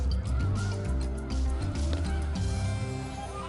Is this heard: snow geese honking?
yes